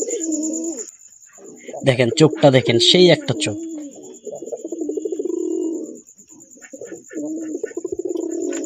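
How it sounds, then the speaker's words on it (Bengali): Pigeon in a home loft, a long-kept breeding bird, gives soft low cooing in repeated phrases, close by, with someone talking over and between the calls. "আমার পছন্দের একটা কবুতর"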